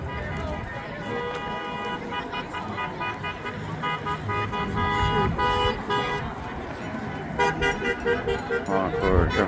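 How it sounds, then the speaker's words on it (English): At a roadside pro-Trump rally, passing cars honk their horns repeatedly, with bursts of toots stacking over traffic noise and people shouting. The honking grows busier toward the end. "Honk for Trump. Honk for Trump. Honk"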